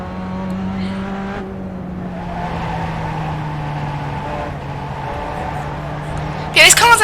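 A Pontiac race car in the iRacing game drones steadily at Atlanta Motor Speedway's road course, engine pitch sagging slowly as it holds speed, with someone talking over it and a sharp burst of noise near the end.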